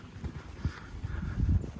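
Horse hooves clip-clop on the ground during a riding session, several uneven thuds at close range over a quiet background.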